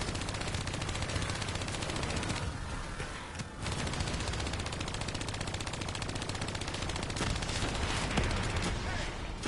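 Rapid automatic gunfire from the Call of Duty: Black Ops 3 campaign rattles almost nonstop, loud and close, with a short lull midway and heavier bursts near the end.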